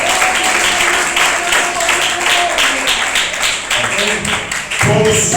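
A church congregation in Irajá clapping along in praise, a fairly loud, steady patter of many hands with voices and faint music underneath.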